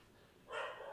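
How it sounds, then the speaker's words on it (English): A dog gives a single short bark, fairly faint and a little distant, rising out of quiet background. "There's a lot of dogs arguing."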